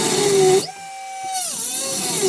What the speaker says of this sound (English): Just run that Dremel up in there.